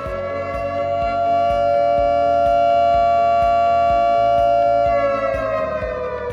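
An industrial plant emergency siren wails in a long sustained tone that swells, holds, then slides downward, loud and alone with a faint regular ticking beneath it.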